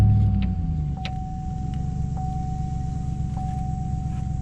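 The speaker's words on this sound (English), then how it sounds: "Now back in the truck, restart it." The engine of a Chevy Silverado pickup runs at a steady idle after a restart during a coolant drain and fill, a loud low rumble with a constant whine and a few faint clicks.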